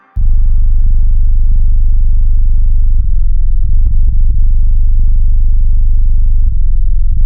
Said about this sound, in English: And I started with this 808 called Best Bass